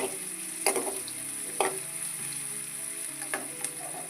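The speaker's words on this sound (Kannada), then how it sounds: "ಸ್ವಲ್ಪ ಬೇಯಲಿ ಈರುಳ್ಳಿ." Onions fry in a pan with a soft, steady sizzle, broken by a few clear stirring scrapes and clinks of the spoon at uneven intervals, fairly quiet and close.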